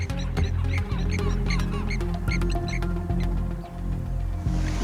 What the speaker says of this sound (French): L'aigle pêcheur est allé se poser sur cette souche et il est attaqué par des vanneaux armés.